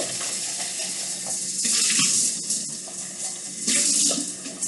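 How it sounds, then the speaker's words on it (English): Tap water runs steadily into a sink as a cup is rinsed beneath it, a bright continuous splashing that swells louder twice, with a faint clink near the start and no voices. "So I'm rinsing this cup out"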